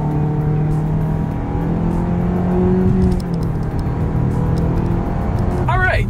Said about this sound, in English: let's do a quick little acceleration here in the new 2020 Mitsubishi Eclipse Cross